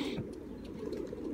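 Pigeons coo softly and low in a loft, a faint continuous murmur with a brighter rustle at the start.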